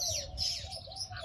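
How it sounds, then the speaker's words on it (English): A bird in a cage sings nearby, a short stretch of bright chirps and sweeping whistled notes, fairly clear over low background noise. "the bird is very happy. So very happy. It is singing,"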